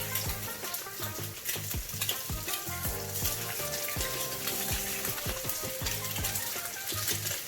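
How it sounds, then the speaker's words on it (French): A cod fillet fries in olive oil in a hot non-stick pan, a steady loud sizzle under repeated sharp knocks and clatter from the pan and utensils, with no talking. "Dans une poêle chaude de préférence anti-adhésive, là on va verser de l'huile d'olive. Je vais disposer un morceau de cabillaud."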